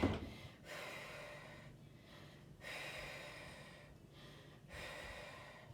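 Breathy exhales during a glute bridge lift in a home workout, several forceful, close breaths spaced a second or two apart, each a short hiss that fades.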